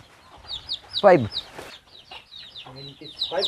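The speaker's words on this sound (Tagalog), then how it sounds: "grabe manok oh saan manok daming manok" Chickens cluck and squawk in bursts close by, with a rooster-like call partway through and quieter background clucking.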